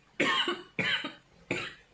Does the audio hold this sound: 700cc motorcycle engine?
no